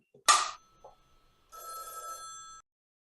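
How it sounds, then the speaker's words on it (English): A telephone bell rings once during an acting-class exercise, a short bright ring after a brief sharp sound, clear and close in a quiet room. "there's a phone ring"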